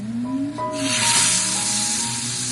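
Honey garlic glaze sizzles and hisses loudly in a pan as salmon goes back in, a broad steady crackle swelling after a moment and holding, with faint tonal hum from the kitchen beneath.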